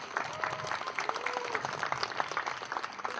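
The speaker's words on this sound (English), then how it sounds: "And can we have a big round of applause for Hashim?" Audience applause at a university event, steady dense clapping from a moderately sized crowd lasting several seconds, with a few faint voices and whistles audible underneath.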